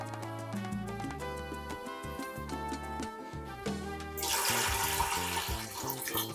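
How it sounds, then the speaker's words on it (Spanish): Four cups of water are poured over dry black beans in a Ninja Foodi pot, a sudden rushing splash that starts partway through and keeps going over background music. "echamos 4 tazas de agua, o sea 1 litro."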